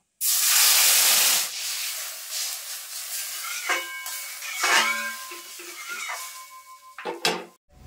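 Water poured into a hot pan for a Bengali chala fish sour curry bursts into a loud, sustained hiss of steam and sizzle. It settles into softer bubbling with clanks of a utensil against the pan, close up and without talk.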